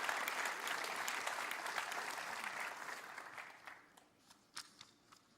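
A church congregation applauding during a Sunday service, a dense wash of many hands clapping that fades after a few seconds, leaving a handful of scattered last claps.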